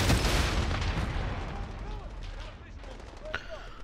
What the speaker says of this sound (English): Fucking mortars.